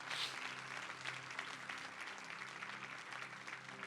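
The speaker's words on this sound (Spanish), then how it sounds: "Denle un fuerte aplauso a Dios." A church congregation applauds at the close of a Spanish-language sermon, dense steady clapping from many people filling the room, fairly distant and even throughout.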